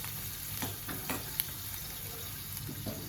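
Masala paste for a bitter gourd dish frying in a pan, a soft continuous sizzle with light stirring scrapes, close and alone.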